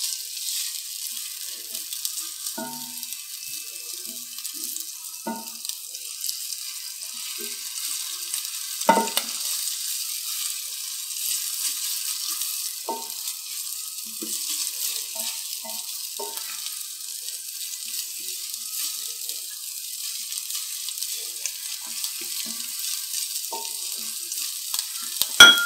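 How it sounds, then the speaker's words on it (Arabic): Onions sauté in butter and a little oil in a pan, a faint, steady sizzle running throughout with occasional soft clicks and scrapes from stirring. "وانزل عليهم بالبصل واشوحه لحد ما يدبل، بس ما احمروش تحمير."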